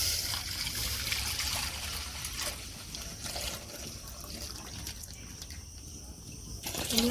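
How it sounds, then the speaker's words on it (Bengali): Water trickles and pours steadily into full-cream milk in a home kitchen while mango yogurt is being prepared, a continuous close splashing stream with no talking. "জল দিয়ে দিচ্ছি দুধে যাতে না বসে যায়"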